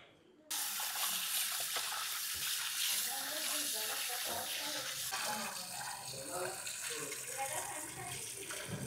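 Fresh mutton for biryani washed under running water, a steady loud splash and gush from a tap that starts abruptly and continues throughout, with a voice talking at times.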